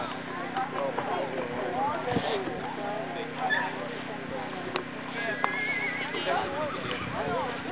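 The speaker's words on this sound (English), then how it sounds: "She's number one riding that handy Cappuccino horse" Horses galloping across the field during a polo match, hoofbeats and occasional whinnies running steadily under continuous commentator speech.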